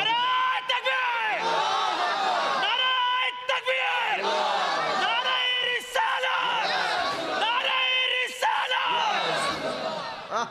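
A large crowd at a religious gathering shouts takbir in unison. Loud, ringing chanted bursts come again and again in a steady rhythm.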